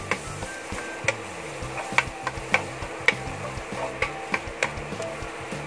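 A little garlic sautés in a pan for cauliflower fried rice, giving a low sizzle under frequent sharp ticks and clicks of a utensil stirring and tapping the pan.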